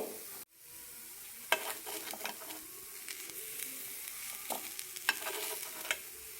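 Vegetable paddu sizzles and fries in a pan, with scraping and tapping as the pieces are flipped over; the sounds come in short bursts over a steady frying hiss, close and moderately loud, with no talking.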